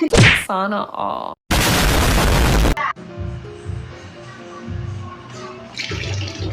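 A burst of gushing, rushing water from a tap lasts about a second and a half, loud and close, followed by a low rumbling hum and background noise.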